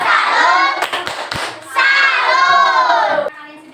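Primary school children chant the tepuk salut together in a classroom, their voices loud and close, punctuated by a brief burst of sharp hand claps partway through.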